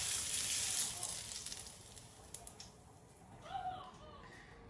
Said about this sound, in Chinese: 我们放点辣椒面，淋上热油，哇，这样才更香。